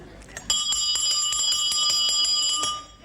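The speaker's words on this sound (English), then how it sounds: "That was the janitor ringing the big school bell." A janitor rings a big school bell with a fast, steady run of bright metallic clangs for a couple of seconds. The ringing is loud and close, and it fades out at the end.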